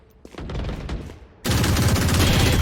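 Gunfire in Valorant shooting through a wall: faint muffled bursts at first, then a loud sustained stream of rapid automatic shots up close.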